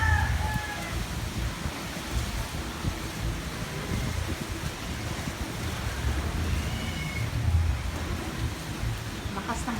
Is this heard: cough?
no